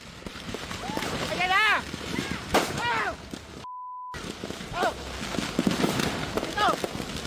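Scattered firecracker pops and whistling, rising fountain-type fireworks going off across a burning row of fireworks stores, several bursts in quick succession amid crowd noise and voices, with a brief dropout in the middle.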